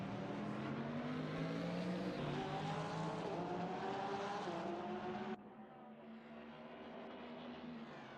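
GT race cars in a racing game at Spa roar past at close range, including an Audi locking its brakes, with a loud engine drone that drops abruptly as one car pulls away.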